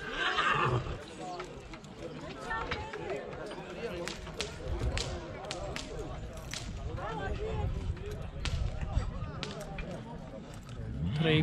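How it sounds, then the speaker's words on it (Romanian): Horses at a country fair in Gura Putnei whinny amid scattered hoof clops and the bustle of a crowd, with people talking throughout. "Trei perechi de cai frumoși."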